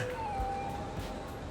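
A wailing ambulance siren from the Cities: Skylines city-building game sweeps steadily in the background, faint and continuous.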